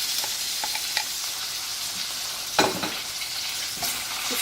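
Minced meat (keema) frying with softened onions in a pan gives a steady close sizzle throughout, broken by occasional scraping stirs, with one louder stir near the middle; no one speaks.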